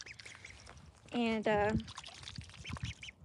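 Ducklings quack in a short burst of bright, rasping calls at close range, set against faint background talk on a small homestead.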